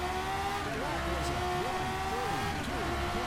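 A classic F1 car engine in rFactor 2 screams at high revs, with quick throttle blips rising and falling during downshifts while heel-and-toeing on a shifter, loud and steady throughout, with a voice talking over it.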